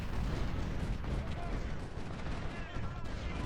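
Dense, continuous rumbling artillery fire fills a Chancellorsville battle in Ultimate General: Civil War, a loud, layered barrage of booms with no break.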